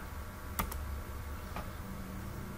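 Computer keyboard keys pressed while entering an install command: a sharp double click followed by one softer keystroke a second later, close and isolated against quiet room noise.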